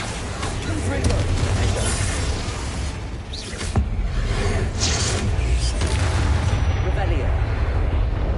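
Spell blasts from the Confringo curse in the Hogwarts Legacy video game, a run of booming magical explosions and whooshes amid constant game noise, with a voice calling out over the fighting.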